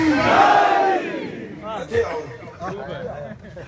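A large crowd roars a religious slogan, Haidari, in unison in response to a cleric's call at a Muslim sermon gathering, loud massed voices swelling then trailing into scattered shouts.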